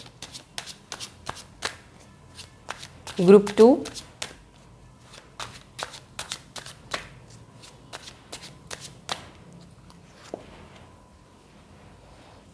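A deck of tarot cards is shuffled in quick, crisp riffles and taps that repeat in a steady rhythm, close to the listener, while someone speaks softly between the shuffles.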